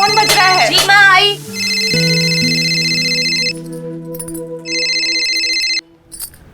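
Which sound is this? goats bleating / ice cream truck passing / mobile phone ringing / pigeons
mobile phone ringing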